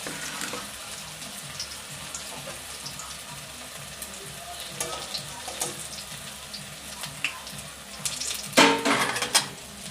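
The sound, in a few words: frying drumstick (sajane) leaf pakoras in a pan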